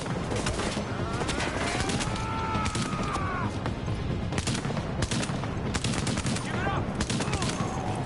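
Rapid gunfire from The Division video game, with a light machine gun among the weapons, crackles in dense overlapping bursts throughout, while a faint voice or chatter rises briefly beneath the shooting.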